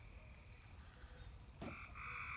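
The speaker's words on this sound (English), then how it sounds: "I can hear tree frogs everywhere." Tree frogs croak in a wet field with a busy, continuous chorus, steady pulsing calls at close range and a sharper burst of calls joining near the end.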